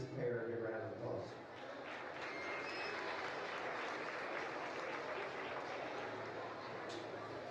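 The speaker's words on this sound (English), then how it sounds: "Give her a round of applause." Spectators in a county fair livestock arena applaud after a cow-calf show, a broad steady wash of clapping that swells after a brief voice at the start and carries on evenly, slightly distant and reverberant.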